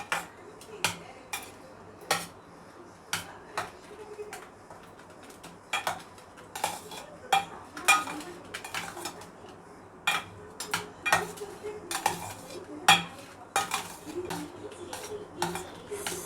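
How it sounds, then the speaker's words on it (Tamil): A ladle or spoon scrapes and clinks against a pot while tamarind paste is stirred into cooked rice for tamarind rice, with irregular sharp metallic knocks repeating throughout over a quiet background. "சாதத்தில் போட்டு நல்லா கலந்துக்கோங்க."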